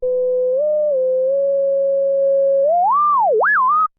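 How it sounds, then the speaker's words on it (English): Self-oscillating filter on a Sequential Circuits Pro-One synthesizer, heard alone with the oscillators removed: a loud, pure whistling tone that holds steady, then sweeps upward, dips sharply and rises again before cutting off. "you're just listening to the filter there, which means it self-oscillates"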